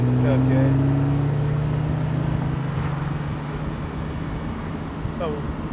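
A Porsche 911 997.2 Carrera 4S engine hums loudly at steady revs held in third gear in sport mode, then eases off into a rumbling drone with road noise.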